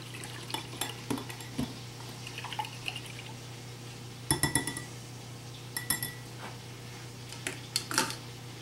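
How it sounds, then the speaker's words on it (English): Metal whisk clinking against a bowl while beating a sriracha mixture in a home kitchen, a run of light irregular taps and scrapes with a few sharper, louder clinks clustered in the middle and near the end. "I'm going to whisk that and beat that up"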